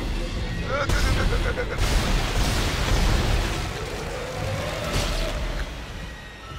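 Gunfire in the Dead Space video game, heavy broadband blasts and rumbling bursts over several seconds, mixed with game ambience and someone speaking over it.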